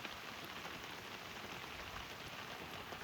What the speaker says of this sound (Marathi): गच पाऊस आहे, आवाज पण येत असेल तुम्हाला.